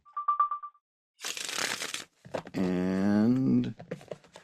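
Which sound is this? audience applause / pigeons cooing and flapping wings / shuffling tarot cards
shuffling tarot cards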